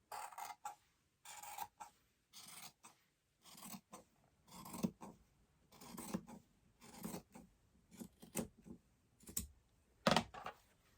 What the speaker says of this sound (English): we're going to cut that a little thick through the placket.